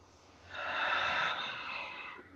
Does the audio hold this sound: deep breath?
yes